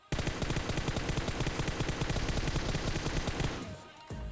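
Sustained automatic gunfire from the PUBG Mobile battle royale game, a loud rapid burst of shots running for several seconds before cutting off abruptly, with only a brief quieter tail afterward.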